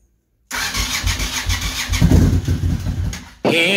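A Royal Enfield Himalayan motorcycle engine is started as a makeshift cooker for bacon, cranking in after a brief silence and settling into a loud, steady rumble that swells midway and carries on to the end.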